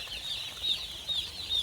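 Broiler chicks kept warm under a heater at night, a flock of over two thousand giving thin, high repeated peeping chirps in soft pulses, fairly close and steady with no talk.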